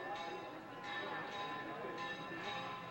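Big church bells chime from a tall bell tower in a Spanish city, a sustained, ringing metallic tone with repeated strikes that sounds distant and faint against background city noise.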